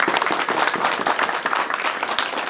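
Audience applause at a book launch on national unity and Prithvi Narayan Shah, a dense, steady wash of many hands clapping together, fairly loud and continuous with no speech over it.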